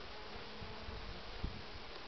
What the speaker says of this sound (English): That's a huge bee. Is that a drone?